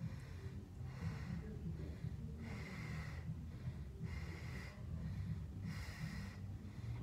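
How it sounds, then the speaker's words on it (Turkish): Heavy, rhythmic breathing after exercise, close and loud, with repeated strong exhales and snort-like breaths roughly every second and no speech. "Çünkü hala rahat nefes alıp veremiyorum."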